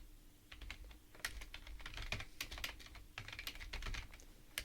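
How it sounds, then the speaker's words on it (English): Rapid keystrokes on a computer keyboard during a biochemistry lesson, a steady close run of uneven clicks over nearly five seconds with a brief pause midway, no talking. "We'll see if over the course of this semester my typing skills get any better."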